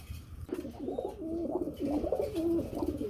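A pair of blue-bar pigeons coo softly and repeatedly in a low, rolling rhythm, nearby but quiet over faint background hum.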